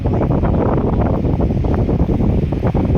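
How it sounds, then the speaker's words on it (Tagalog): Strong wind roars steadily into the microphone during a rainstorm, a dense continuous rumble with no pauses, loud and close. "Malakas yung ulan, malakas din yung hangin dito sa amin."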